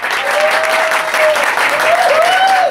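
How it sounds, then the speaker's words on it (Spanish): Steady crowd clapping for the second contestant at a Moulin Rouge drag talent show, loud and continuous, with a faint whistle or cheering voice gliding through the applause. "Aplausos para la concursante número dos"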